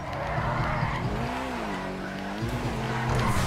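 A car in a video game drives and skids, its engine droning steadily with a rising and falling tire squeal in the middle, loud and close.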